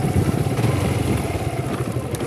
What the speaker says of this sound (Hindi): अभी गाइस बाइक में थोड़ा स्लो ही चलाऊँगा क्योंकि ज़्यादा स्पीड में नहीं चलाऊँगा भाई।